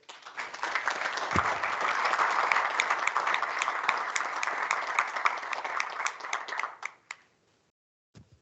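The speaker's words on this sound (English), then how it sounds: "let's give the panel a round of applause" An audience at a conference gives a panel a dense round of applause that swells quickly, holds steady for about six seconds and then fades out, with a last few scattered claps.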